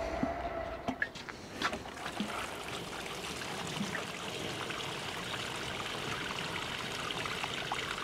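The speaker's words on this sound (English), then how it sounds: "I'll give it good water." Water pours steadily into a freshly planted QuadGrow pot in a greenhouse, a continuous close trickling and splashing with a few light knocks near the start.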